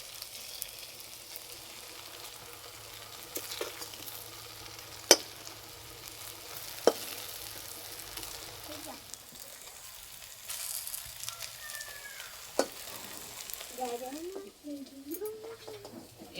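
Cabbage fritters (bora) frying in oil and being turned to cook both sides, with a soft, low sizzle under scattered utensil clicks and scrapes and some talking toward the end.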